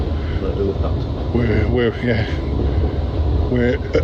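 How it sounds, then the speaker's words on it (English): Inside a moving passenger train heading toward Alton, a steady rumbling hum fills the carriage throughout, with voices talking intermittently over it. "now we're on the second train before we get on the steam train"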